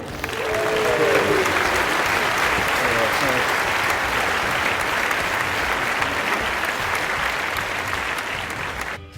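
Wedding guests applaud at a reception during a best man's speech, a loud, dense round of clapping that holds steady for the whole stretch, with brief voices rising over it near the start.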